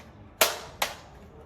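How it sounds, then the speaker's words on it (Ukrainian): A magazine is inserted into a toy assault rifle, giving two sharp plastic clicks about half a second apart, close and crisp over a quiet background. "Вставляємо магазин."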